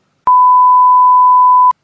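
A single steady electronic beep, clean and loud, holding one pitch for about a second and a half before cutting off abruptly.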